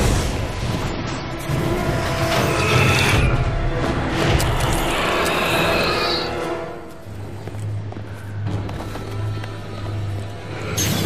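Freight elevator machinery in the video game Captain America: Super Soldier, a heavy mechanical rumble with clanks and grinding that shifts into a steady low hum, loud and close throughout.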